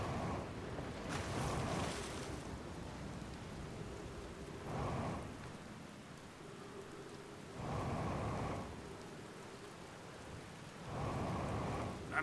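Ocean waves surge and crash in the space exploration game Outer Wilds, heard as a continuous loud wash with swelling roars recurring every few seconds over a hissing bed of water.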